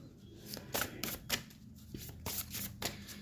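Tarot cards are drawn and slid from a deck, giving a run of crisp, close paper flicks and snaps at an uneven rhythm with quiet gaps between them.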